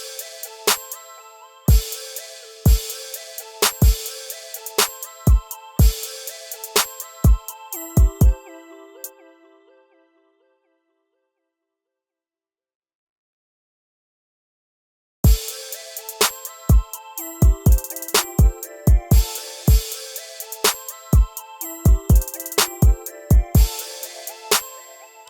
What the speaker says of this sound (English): these hi-hat rolls. So let's listen and see where we want to put them.